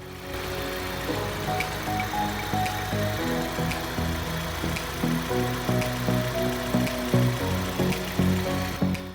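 A car engine idles steadily just after starting while radiator hose connections are checked on an overheating engine, making an even, moderately loud hum with faint regular ticking and no talk.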